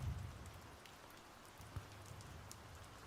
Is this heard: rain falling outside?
yes